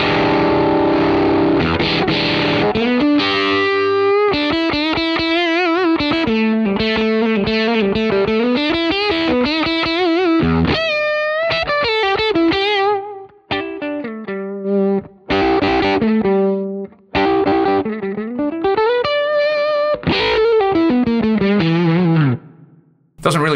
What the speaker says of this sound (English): like there's a fuzz face mode in here